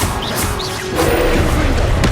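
Confringo blast spell in Hogwarts Legacy, a sharp explosive crash with a boom and crackling debris, loud and close amid other game effects.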